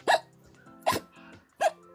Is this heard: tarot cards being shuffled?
no